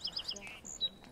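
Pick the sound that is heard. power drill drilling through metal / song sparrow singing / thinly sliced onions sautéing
song sparrow singing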